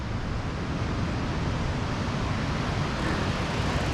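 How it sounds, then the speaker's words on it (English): Big sea waves break along the cliff-lined coast at Bude, heard from a clifftop as a steady broadband roar of surf with wind, continuous and fairly loud, no voices. "Oh, we got waves. There's some stonking waves again."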